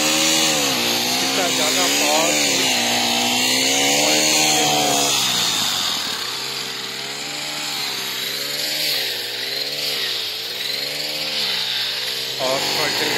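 A Honda grass cutting machine works through oversized long grass, its small engine whining loudly and rising and falling in pitch as the load changes, with someone talking over it.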